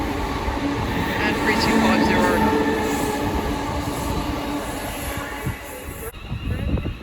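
Royal Mail class 325 electric units running as a convoy on the West Coast Main Line at Lichfield Trent Valley pass with a loud continuous rumble and rail noise.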